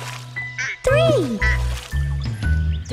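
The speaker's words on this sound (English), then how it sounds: "Mommy duck said quack, quack, quack, quack" Quacking ducks in a cheerful children's nursery song about five little ducks swimming over the hills, with sung vocals and music carrying steadily throughout.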